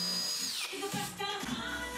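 A power drill boring holes into a wooden workbench shelf, a steady whining bite that rises and falls in a couple of short bursts, close and loud.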